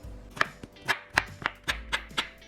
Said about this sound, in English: I'm cutting the watermelon slices into cubes